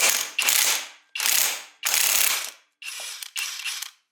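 Impact wrench on a Yamaha BWS 70cc scooter engine, loosening parts during teardown: five loud, close rattling bursts, each about half a second to a second long, separated by short gaps, with no talk.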